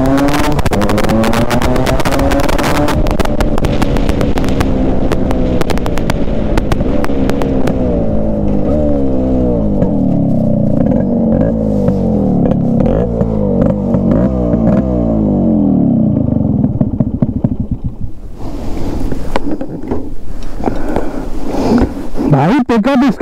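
A 31-year-old Yamaha RX100 two-stroke motorcycle revs hard while being ridden in Jabalpur, its loud, buzzing engine rising and falling through gears for most of the clip with a brief dip near the end, someone talking over it.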